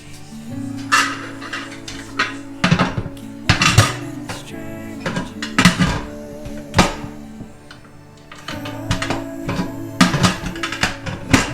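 Metal pot and lid clatter in a kitchen while Korean-style boiled chicken soup is being made, with a dozen or so sharp knocks and clinks in irregular bursts, close and fairly loud, ending with the lid being set shut.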